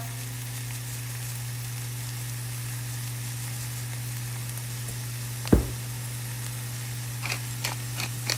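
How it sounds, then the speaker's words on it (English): Ground beef fries in a pan for sloppy joes, giving a steady close sizzle over a low constant hum, with a sharp knock near the middle and a few light clicks toward the end. "I'm gonna go ahead and add in the entire contents of my ground beef"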